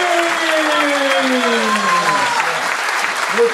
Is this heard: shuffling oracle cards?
no